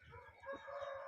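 Chicken on a home yard setting giving short clucking and crowing-like calls, fairly faint, with soft low rhythmic background noise throughout.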